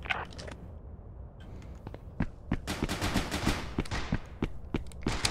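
Gunfire in the video game Intruder, with sharp bursts and single shots cracking in irregular clusters, some rapid strings, loud and close, over quiet game ambience.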